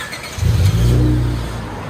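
A 2003 Honda Accord 3.0L V6 with straight-pipe dual exhaust into 5-inch tips, heard from inside the car as the engine blips up into a loud, deep rev and settles back down, close and alone.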